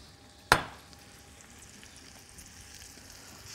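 Onions fry in oil in a pan, opening with one sharp clatter, then a faint, steady, low sizzling hiss.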